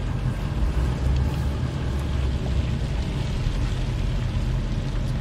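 A pickup truck fitted with Timbren suspension drives a test course in the rain, heard from inside the cab as a steady, loud low engine and road rumble with no breaks.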